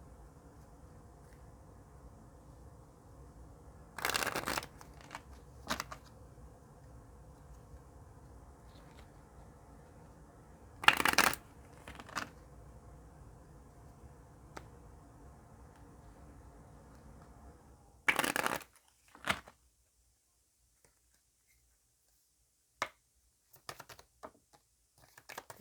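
A Goddess oracle card deck is shuffled close by in three short, sharp riffling bursts with quiet stretches between them and a few faint taps afterward. No one speaks.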